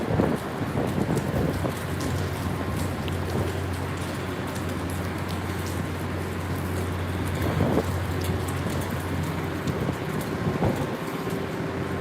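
Steady, dense hurricane rainfall from Hurricane Sally in Gulf Shores, Alabama, hisses continuously with a low rumble underneath, broken by occasional sharper patters and gusts, and nobody speaks.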